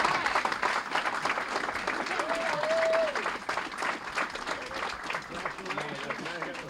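Applause at a Republican honors dinner, sustained clapping from a room of guests with voices talking over it.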